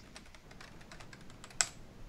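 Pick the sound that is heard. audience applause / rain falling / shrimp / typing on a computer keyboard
typing on a computer keyboard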